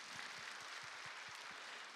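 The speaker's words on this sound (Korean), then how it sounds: "동산의 가족이 되신 분들께 마음을 담아 박수로 환영하도록 하겠습니다." A church congregation applauds to welcome new members during a Sunday morning service, a soft, distant patter of clapping that stays steady and even for a couple of seconds.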